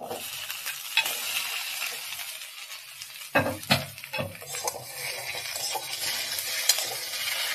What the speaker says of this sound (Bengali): এবার আমি গাঁটি কুচিগুলো দিয়ে দেবো